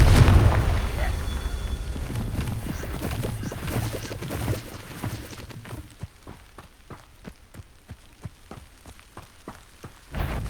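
A Confringo fire spell from Hogwarts Legacy erupts in a loud, deep fiery blast at the start, then its rumble fades into a sparse run of sharp crackles and thuds before a final burst.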